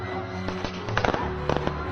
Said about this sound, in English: They threw firecrackers onto the stage, causing chaos for a while.